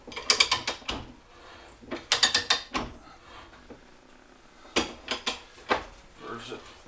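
An Atlas 3AT lathe being reversed after cutting a thread, heard as bursts of rattling gear and ratchet-like clicking in close clusters separated by quieter pauses.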